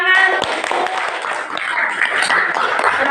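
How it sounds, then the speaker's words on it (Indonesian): Classroom clapping from students, brief hand claps mixed with chatter and a teacher's voice, fairly close and busy. "beri tepuk tangan"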